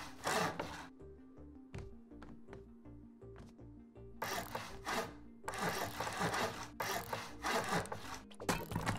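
Wood being chopped by a player character gathering materials to build a house in the survival video game Rust, a steady run of rapid rhythmic scraping and hacking strikes with game music underneath, loud and continuous throughout.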